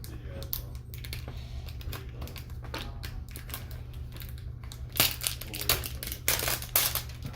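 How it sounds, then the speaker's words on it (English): Shiny plastic packaging around a Stitch head toy being cut and ripped open, heard as close, scattered crinkles and clicks that rise into louder tearing and crackling bursts toward the end, with no voices. "Now let's rip it open."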